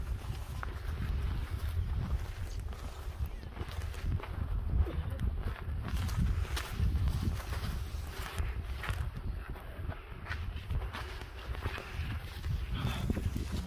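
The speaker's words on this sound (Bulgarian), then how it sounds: "Вятърът е голям." Strong wind on the volcano near Pompeii, on a foggy climb, buffets steadily as a continuous loud low roar with gusty surges and no speech.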